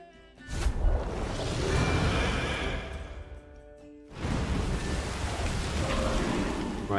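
A rain weather effect in the card game Gwent hisses as a steady downpour, dipping briefly in the middle before surging back at full strength, with no voices.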